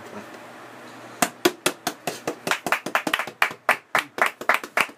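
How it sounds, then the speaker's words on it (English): Sharp, uneven handclaps begin after a second of quiet and grow quicker and denser, like a small audience applauding, close and fairly loud, with no cheering voices evident. "And the crowd is going wild, fellas."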